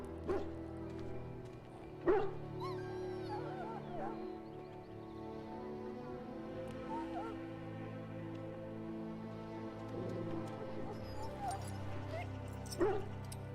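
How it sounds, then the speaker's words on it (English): A dog in the video game Dragon Age Origins whimpers and yips with occasional bark-like bursts, layered over a steady game soundtrack and ambience, with a few sharper louder yelps along the way. "Now I can treat the dog properly, poor fella."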